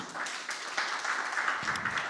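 A university audience gives a short burst of applause for presenters, fairly quiet and even, heard from a distance for about two seconds.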